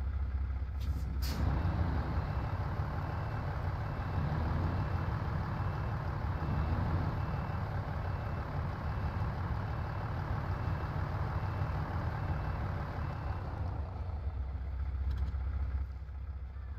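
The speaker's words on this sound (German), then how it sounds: "So, hier löse ich den Anhänger." A truck's trailer is unhitched in SnowRunner. A short hiss and clunk open over a deep, steady idling engine rumble that continues near and loud, easing slightly toward the end.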